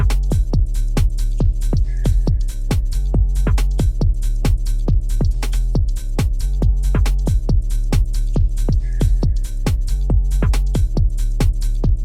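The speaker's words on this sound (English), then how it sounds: "So the full drum and bass sound like this." Jersey club style drum beat layered with a deep sub and 808 bass line chopped into eighth notes for a track, kicks and snares bouncing steadily over the continuous low bass, loud with no voices.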